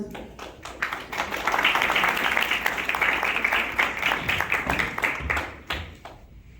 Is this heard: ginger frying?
no